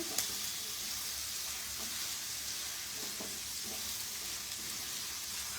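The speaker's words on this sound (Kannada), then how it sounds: "ಸೊ ಇದನ್ನು ಒಂದು ಸ್ವಲ್ಪ ಹಸಿ ವಾಸನೆ ಹೋಗೋ ತನಕ ನಾವು ಇದನ್ನು ಫ್ರೈ ಮಾಡಬೇಕಾಗತ್ತೆ." Ingredients fry in a pan with a constant soft sizzle and occasional light stirring clicks, fairly quiet and steady throughout.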